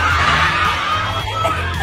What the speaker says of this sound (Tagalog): Yung sigaw ng lahat nung binanggit ang pangalan ni Barbie.